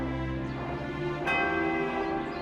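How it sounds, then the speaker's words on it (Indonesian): A giant bell rings with a single deep, resonant toll, its rich humming overtones sustaining and slowly decaying, loud and alone with no voices. "Suara pertama dari lonceng raksasa itu membahana di penjuru negeri."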